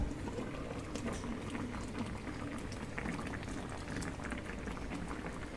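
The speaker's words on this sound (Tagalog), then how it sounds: "Ayan na, nakakulo na." A pot of stew made with coconut milk boils, giving a continuous soft bubbling and popping, faint and steady throughout with no talk.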